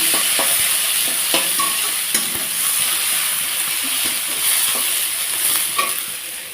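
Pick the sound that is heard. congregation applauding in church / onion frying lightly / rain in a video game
onion frying lightly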